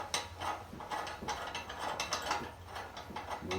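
Repeated ratcheting clicks and mechanical turning come from tightening the clamping bolt on a post connector shoe that joins a post to a crossbeam, steady and close throughout.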